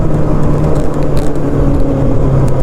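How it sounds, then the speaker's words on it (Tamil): Kawasaki ZX6R motorcycle exhaust on a forest road ride, a loud continuous engine drone with steady low rumble, close and unbroken, no voices. "கொஞ்சம் எக்ஸாஸ்ட் ஆன மாதிரி சவுண்டு கேட்குதுல்ல"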